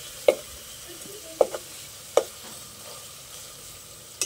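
Pork belly sautéing in a pan gives a faint, low sizzle, broken by a few sharp close clinks and scrapes of a utensil against the pan.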